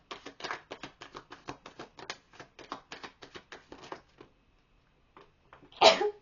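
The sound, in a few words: sneeze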